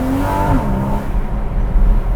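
A Porsche engine runs loud and steady while the car drives, with a low continuous rumble and a slight rise in pitch early on, alone with no talk.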